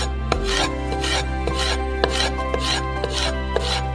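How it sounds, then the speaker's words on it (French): A knife slicing peeled bell peppers into thin strips on a board, regular crisp cuts about twice a second over a low steady hum, close and clear with no talking. "Et on les coupe en petites bandes."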